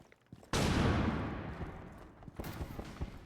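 Gunfire in a tactical shooter video game, one sharp loud burst that rings out and decays, followed by fainter scattered shots and game sounds.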